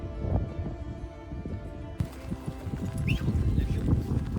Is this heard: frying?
no